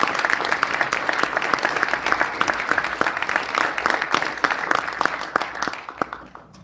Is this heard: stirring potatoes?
no